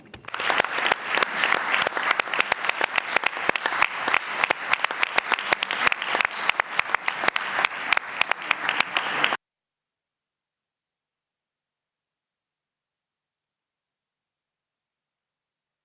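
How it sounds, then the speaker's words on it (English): An audience in a parliamentary assembly at a summit of parliament speakers breaks into sustained, even applause, a dense steady patter of many hands for about nine seconds that then cuts off abruptly into silence. "I think we can complete this with a round of applause for the consensus"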